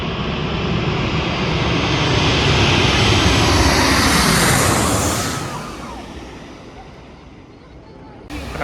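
Loud small passenger propeller plane, about 20 seats, passing close overhead, its engine roar swelling to a peak then receding into the distance.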